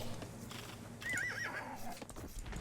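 A horse neighs in the Age of Empires II strategy game, a short rising whinny over faint hoofbeats and battle ambience, quiet in the mix.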